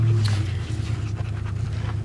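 A dog pants quickly and rhythmically at close range during a kayaking outing at Lucky Peak in Idaho, with a low engine-like rumble underneath.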